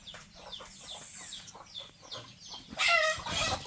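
A chicken clucks in a rapid series of short, nearby calls, ending with a louder squawking burst.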